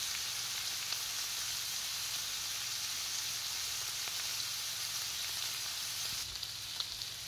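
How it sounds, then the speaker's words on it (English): Butter sizzles and crackles steadily in a hot pan, a close, even hiss with no talking. "the butter starts sizzling and it is cooking very nicely with a slow flame"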